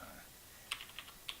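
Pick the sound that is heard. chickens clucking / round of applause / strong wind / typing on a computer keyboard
typing on a computer keyboard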